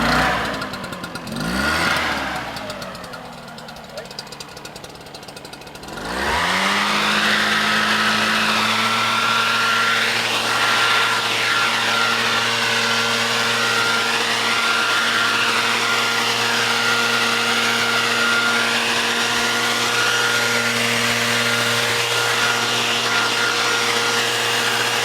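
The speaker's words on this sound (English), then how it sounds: "The power mist blower covers large areas quickly and uses less chemicals than a regular backpack" Engine of a power mist blower knapsack sprayer runs loudly and steadily after a low, uneven start, climbing to a sustained high drone with a wavering pitch for the rest of the stretch.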